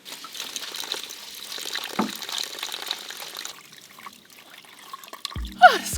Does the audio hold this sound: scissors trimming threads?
no